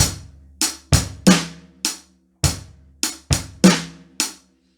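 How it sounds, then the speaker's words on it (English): A drum kit plays a short groove: about nine crisp, sharp hits with ringing decays, the kick-and-snare pattern filled in with an extra hi-hat stroke. "they'll add a hi-hat note so it sounds like this."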